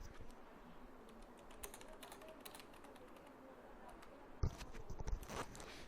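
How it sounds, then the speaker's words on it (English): Typing on a computer keyboard while entering a student's name into an MS Excel spreadsheet: a steady run of light, quiet key clicks over faint room noise, with a slightly louder burst of keystrokes near the end. "now I am going to type name of the student"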